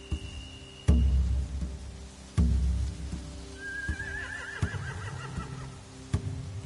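A horse in The Walking Dead video game gives a loud, quavering whinny after a couple of heavy thuds, with a few sharp knocks following in an otherwise quiet scene.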